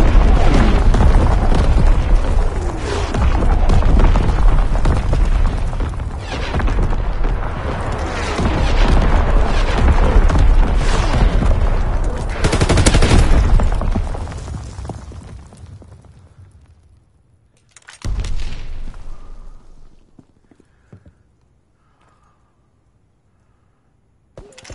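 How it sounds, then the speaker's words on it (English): Enemy artillery in a video game booms and rumbles in loud, dense, sustained barrages for about fifteen seconds, then fades before one final heavy blast and a quiet tail. "Incoming enemy artillery!"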